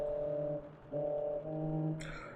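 A girl's singing comes through a voice pipe in a video game as a faint, muffled, hollow tone. It holds steady pitches for about two seconds, breaks briefly, then fades out.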